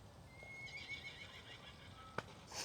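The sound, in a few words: horses neighing on private property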